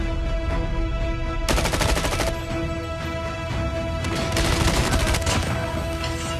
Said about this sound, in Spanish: me di cuenta que llevaba una escopeta automática